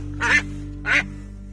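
Two loud, nasal duck quacks, close by, spaced about half a second apart over a low steady hum, as the duck is being caught.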